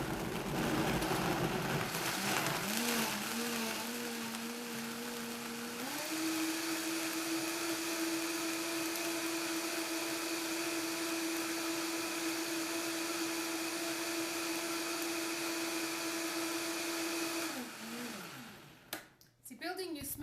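A countertop blender whirs through dates, carrots, lime, apples and cucumber for a green smoothie, a loud steady motor drone that shifts pitch briefly early on, runs evenly, then winds down near the end.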